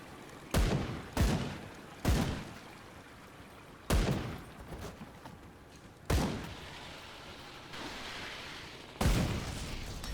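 Bombs go off in the action game Grim Dawn as a run of sharp, booming blasts, about six in ten seconds, each bursting suddenly and trailing off, with quieter crackling between.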